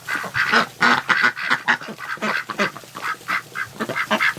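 Wintering ducks and geese in a pen keep up loud, close quacking and honking, a dense run of repeated calls with no pauses.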